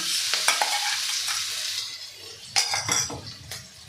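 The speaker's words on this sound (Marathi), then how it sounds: "आणि तेलामध्ये खमंगाचं परतून घ्यायचं आहे" Garlic and green chili paste frying in hot oil over cumin seeds, with a soft steady sizzle broken by a few sharp scrapes and clinks of a spatula against the pan.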